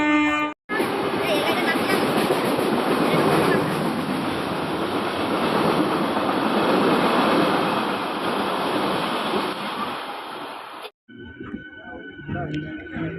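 A train pulls into a railway station with a loud, broad, rushing roar that holds for about ten seconds before cutting off abruptly, followed by quieter platform clatter.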